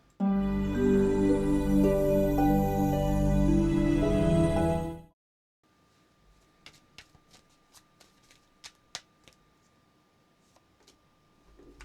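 Tarot cards are shuffled in a dense, continuous riffle for about five seconds, then a short silence follows and a string of light card taps and clicks comes close up, with no one talking.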